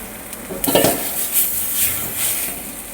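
Chopped green chillies are tipped into hot oil with onions for a masala, setting off a bright, hissing sizzle that swells after a clatter of the pan and keeps crackling nearby without any voices.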